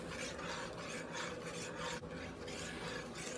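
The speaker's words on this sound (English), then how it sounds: "Give this a stir." A pot of sauce with evaporated milk being stirred on the stove for cheesy chicken spaghetti, giving a steady close scraping and rubbing sound that pulses with each stroke of the spoon, with no talk.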